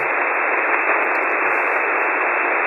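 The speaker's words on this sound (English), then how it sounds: "we will automatically be hearing one particular frequency from this radio receiver" A radio receiver tuned to a single frequency gives off a steady, loud wash of static hiss that holds unchanged throughout, with no voices.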